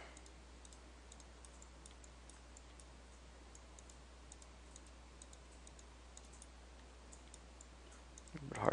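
Faint, sparse mouse clicks at a computer while molding custom cliffs in the Starcraft 2 terrain editor, soft ticks scattered over a low steady hum, with a louder burst right at the end.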